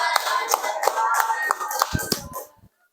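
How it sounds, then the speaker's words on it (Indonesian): A small group in a classroom gives a few seconds of rhythmic applause for a presenting student group, clapping in a steady beat that grows uneven, then stops abruptly. "Tepuk tangan untuk kelompok 2"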